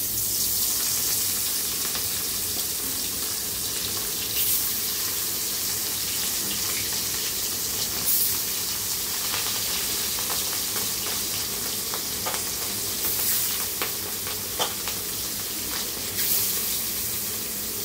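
Pieces of catla fish fry in hot oil in a wok, a loud continuous crackling sizzle with scattered sharp pops and spatters, close and alone throughout without talk.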